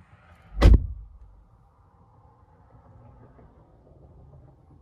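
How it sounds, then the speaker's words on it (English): A 2022 Ram 2500 Laramie Crew Cab locks when the button on its door handle is pressed: a single short, solid thunk from the door latch, followed by faint low rumble and quiet background. "grab behind the handle right over here, and it automatically locks the vehicle"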